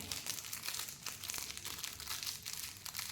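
Paper crinkles as a chocolate is wrapped into a small pouch-style bundle, giving a steady, close, soft rustling with quick crackles throughout and no voice.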